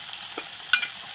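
Onion and tomato masala sautés in a pan, a faint sizzle with a couple of soft spoon stirs and scrapes, quiet and brief with no voices.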